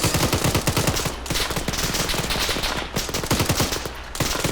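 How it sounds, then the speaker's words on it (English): Rapid automatic gunfire rips at a vehicle's tires in Arma 3, in a Falklands war scenario: dense, loud bursts of shots that continue almost without pause, with brief gaps between volleys. "I'm gonna try and shoot out the tires"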